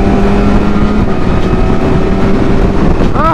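BMW S1000RR motorcycle engine accelerating, a loud, close, sustained roar buried in heavy wind rush, with a rising whine near the end.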